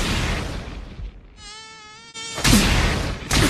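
Small flying insect whining close past the ear, a thin high buzz that rises in pitch and fades within a couple of seconds, bracketed by louder rustling noise.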